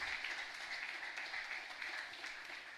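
Faint, steady applause from a congregation at a Catholic Mass in the Santísima Cruz chapel in Ñemby, a soft continuous patter of many hands heard from a distance with no distinct individual claps.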